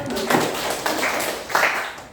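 Students in a classroom clap together, a diffuse burst of overlapping handclaps that rises and falls across the short stretch without a clear single beat.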